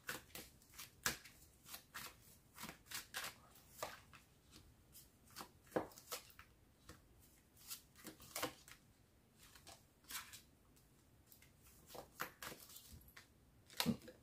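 Tarot cards are shuffled for a reading, a steady run of crisp riffling and slapping bursts repeating throughout, close and fairly quiet, with no talk.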